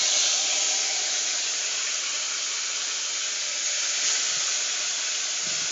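Small chuno fish fry in hot mustard oil, giving a loud, even, close sizzling hiss that holds steady throughout with no talk.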